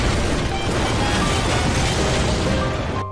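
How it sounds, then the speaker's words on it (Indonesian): A car explosion in a Korean drama: a loud, sustained burst of roaring, crackling noise that fills the whole stretch and cuts off abruptly at the end, with no talk. "mendengar peristiwa ledakan mobil miliknya"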